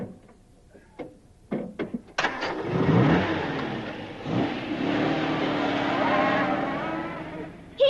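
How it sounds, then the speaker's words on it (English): A hot rod's motor cuts in after a few sharp clicks and knocks, catching into a loud, steady rumble that surges and revs before fading slightly, with a door-like thump at the end. "You'll see a puff of smoke from my exhaust when I cut in the motor."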